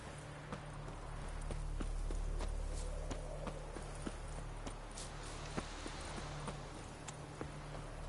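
Roach, Geralt's horse in The Witcher 3, walking with steady, evenly spaced hoof clip-clops over a low ambient bed, moderately close and fairly quiet, with no talking.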